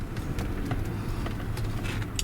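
A 2013 Chevrolet Suburban LTZ making a slow U-turn through a lot, a low, steady engine and road rumble from inside the cabin with light clicks and rattles scattered over it.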